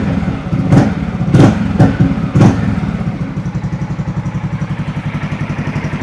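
Yamaha XMAX V2 scooter idling after a 40mm throttle body upgrade, the engine set to about 1200-1300 RPM, a steady close rumbling putter with a few clunky thumps early on before it settles into an even idle.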